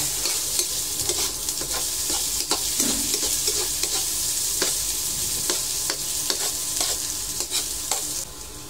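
Chopped onion and garlic sauté in a pan for adobong sitaw, with a continuous close sizzle and repeated sharp scrapes and taps of a utensil stirring, no voices.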